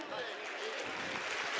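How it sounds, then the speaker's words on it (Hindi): An audience at a Hindu religious conference, a Sanatan Mahasammelan, claps to welcome a revered guru, a steady patter of applause under a voice speaking. "महाराज जी एक बार जोरदार तालियां"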